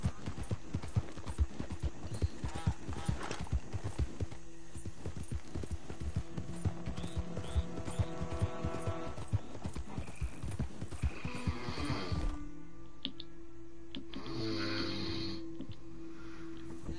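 Black horse in a video game, clip-clopping hooves and neighs over game ambience, a busy stretch of movement that thins out near the end into quieter background sound.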